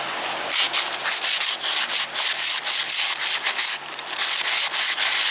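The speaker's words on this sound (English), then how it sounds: "So I'm just taking a piece of sandpaper here and" A sheet of 120-grit sandpaper rubs rust off a big truck part near the edge of a seal during a power divider install. A loud, close, rhythmic series of rasping back-and-forth strokes continues steadily with brief gaps between them.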